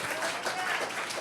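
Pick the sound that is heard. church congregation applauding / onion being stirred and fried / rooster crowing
church congregation applauding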